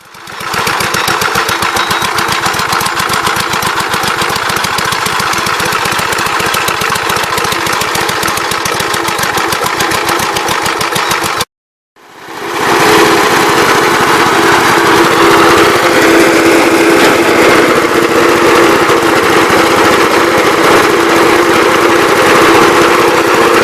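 A small NB engine runs steadily and loudly up close with a fast, even chugging rhythm. It breaks off briefly midway, then returns at the same drone.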